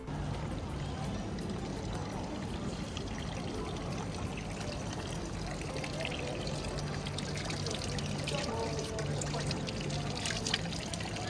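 Tap water in Belgrade, Serbia, pours in a steady, close stream, a continuous splashing gush with a low background hum.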